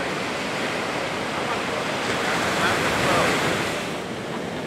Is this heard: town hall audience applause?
no